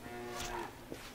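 Cattle moo in the castle-building strategy game Stronghold HD, one drawn-out low bellow followed by a shorter call, clear and close with no talking.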